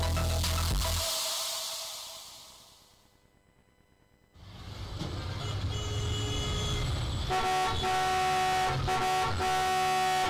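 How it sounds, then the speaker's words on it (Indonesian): Car horns toot repeatedly after a brief lull, several honks sounding over steady road traffic noise in a radio public-service announcement about not sounding the horn again and again. "Jangan bunyikan klakson berulang kali."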